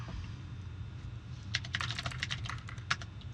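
Typing on a computer keyboard, a quick run of close, crisp key clicks in two short bursts over a steady low hum, with no talking.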